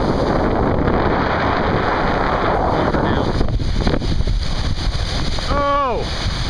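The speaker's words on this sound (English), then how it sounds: "Here's the bow wind." Steady, loud wind at a boat's bow buffeting the microphone on the open North Atlantic, with a brief rising tonal squeal near the end.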